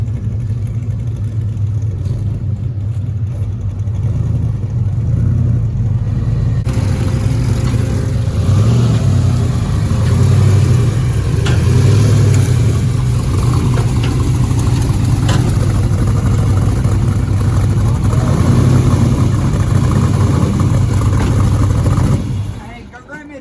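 Chevy S10 no-prep race truck engine rumbling loud and close, idling then revving as the truck pulls away onto grass, a steady heavy drone throughout with possible voices under it.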